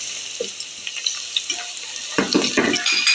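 Onions frying in a pan for keema pulao give a soft, crackling sizzle, with intermittent scraping stir strokes growing busier toward the end, close and fairly quiet.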